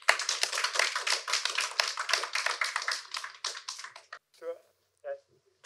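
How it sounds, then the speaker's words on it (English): An audience applauds a panel of speakers at a green finance roundtable: dense, steady clapping for about four seconds that thins out into a few scattered claps and then stops. "Join me with an applaud to our panelists"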